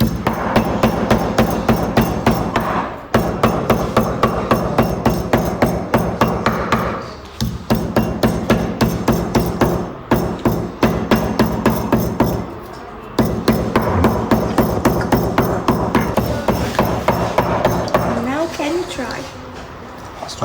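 Rapid, steady hammer blows pounding papyrus strips to squeeze out water, loud and close with brief pauses, while a voice talks throughout.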